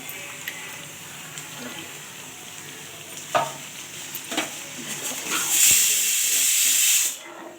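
Water poured into a hot pan of white snake gourd posto sets off a rising hiss and steam, preceded by soft stirring clatter and ending in a sustained close sizzle that cuts off abruptly.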